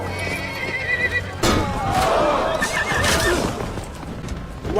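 Horse whinnying loudly during a jousting scene in Game of Thrones, with hoof clatter and crowd commotion around it, the neigh rising sharply midway and trailing off amid the scuffle.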